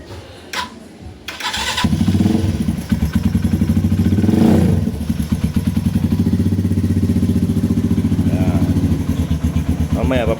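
A Kawasaki RKS 150 motorcycle engine starts after a few brief clicks, then settles into a loud, steady, close-up idle with rapid rhythmic putters and a brief swell in the middle.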